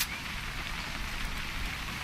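Steady rain in the video game What Remains of Edith Finch, a dense, even hiss of falling drops that holds at the same level for about two seconds with no voices.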